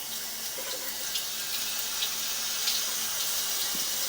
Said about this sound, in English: we're going to run some water here in this stationary tub